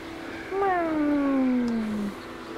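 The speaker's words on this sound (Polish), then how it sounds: "Na pewno słyszycie w tle kota" A cat meows once in the background, a single drawn-out falling call of about a second and a half, fairly clear against quiet surroundings.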